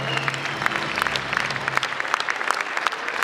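Audience at a student spring gala concert at Bashkir State University clapping steadily, a dense, even wash of applause from a crowd with a faint voice underneath at first.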